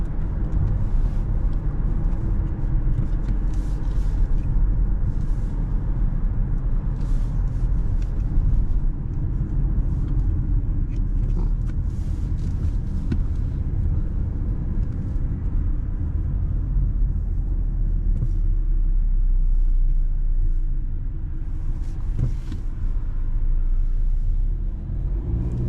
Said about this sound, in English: There is very noticeable engine noise in the cabin.